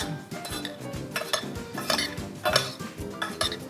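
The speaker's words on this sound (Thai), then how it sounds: "น้ำราบที่เราเตรียมมาไว้นะครับ เราใส่เข้าไป คลุกเลยนะครับ" Mushroom larb is tossed with its dressing in a bowl, giving a busy run of clinks, taps and scrapes from utensils against the dish. The tossing is close and fairly steady, and no one talks.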